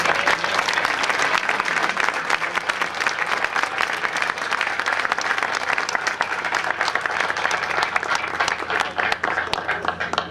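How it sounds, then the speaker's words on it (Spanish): A crowd at the opening of a marching drum-and-bugle band competition claps in loud, sustained, dense applause lasting about ten seconds, with faint crowd voices underneath. "Brindemos un fuerte aplauso para ellos."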